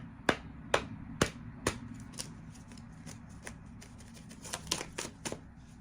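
A tarot deck is shuffled and riffled by hand, giving a run of sharp card snaps that come close and fairly loud at first, then thinner, quicker flutters toward the end, with no talking over them.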